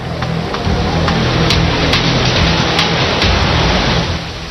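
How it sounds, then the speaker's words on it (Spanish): Typhoon storm lashing Hong Kong, a dense, steady roar of heavy rain and wind that fills the whole clip, loud and unbroken, with faint low rumbling underneath and no voices. "Un tifón de categoría 10, con vientos de 450 kilómetros por hora"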